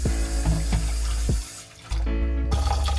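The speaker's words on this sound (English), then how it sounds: "we try to wash your rice at least, cook it about 3 times" Tap water running into a pot of jasmine rice being washed, steady faucet flow broken by a short pause, with small splashes and knocks, close and alone.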